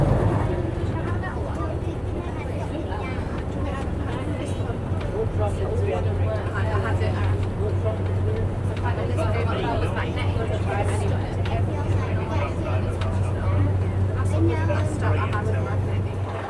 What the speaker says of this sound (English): That was a good experience riding on the vintage Leyland.